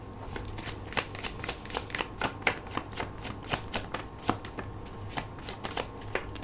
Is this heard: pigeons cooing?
no